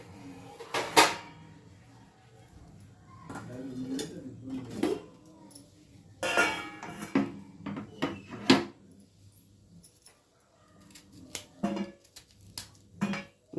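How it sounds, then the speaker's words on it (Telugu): A knife slices bitter gourd into thin pieces on a board, giving irregular sharp knocks and taps in short clusters with quiet gaps between them, close and fairly soft. "లైట్గా తీసేసి సన్నగా ముక్కలు కట్ చేసుకుందాము."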